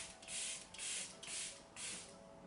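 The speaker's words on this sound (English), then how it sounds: "I go in and I set it with my setting spray" Airbrush Flawless setting spray from Tilbury is misted over a made-up face in four soft, even pumps, each a faint, close hiss with short pauses between.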